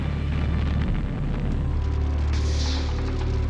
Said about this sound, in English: Soviet artillery was hitting closer every day.